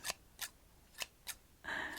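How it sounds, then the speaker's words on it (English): Zebra scissors snip and click close to the microphone during an ASMR unboxing, a handful of crisp metallic cuts at an uneven pace, ending with a brief rustle, quiet and with no talk. "So I have here with me my trusty zebra scissors."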